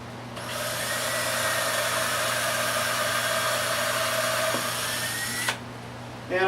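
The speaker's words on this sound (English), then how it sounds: "and drill the hole." A power drill bores a hole through a wooden cutting board, whining loud and steady for about five seconds before stopping abruptly, followed by a brief handling rattle.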